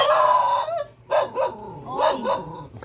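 A dog howls long and wavering, then gives several yipping barks and short howls, close and loud.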